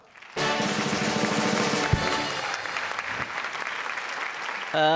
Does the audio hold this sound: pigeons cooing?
no